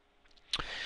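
A computer mouse click on a report button, a single short sharp tick that is quickly followed by a broad, steady hiss. No one is talking.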